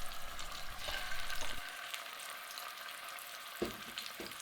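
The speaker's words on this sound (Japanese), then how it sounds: "ココット鍋に多めのオリーブオイルをひいて汗染め、塩コショウで下味をつけたすね肉を焼いていきます。" Lamb shank, seasoned with salt and pepper, searing in plenty of olive oil in a cocotte pot, a steady close sizzle and crackle with a few stirring or shifting clunks as the meat is moved.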